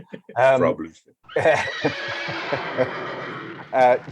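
Horse neighs dropped in as a sound effect: a loud whinny at the start and another near the end, with talk in the middle.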